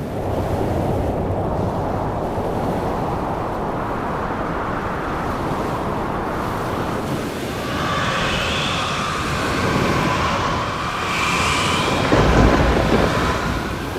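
A roaring storm with heavy rumbling thunder and gusting wind, continuous and loud throughout, swelling stronger toward the end.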